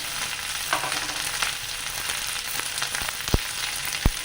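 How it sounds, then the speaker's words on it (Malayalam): Two sliced onions sautéing with salt in a pan for a Kerala prawn roast: a steady close sizzle with scattered light scrapes and a few sharp clicks of a spoon against the pan, no voices. "അതൊന്ന് ഇത്തിരി ഉപ്പിട്ടിട്ട് വഴറ്റിയെടുക്കാം."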